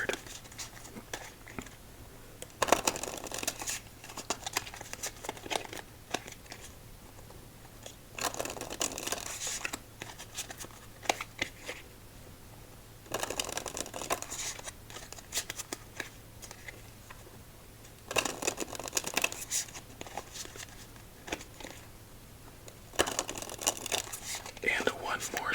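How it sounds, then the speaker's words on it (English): A Muhammad Ali deck of playing cards is shuffled up close during a game of solitaire, with crisp riffling bursts recurring about every five seconds between soft, quiet handling. "And one more shuffle just for good measure."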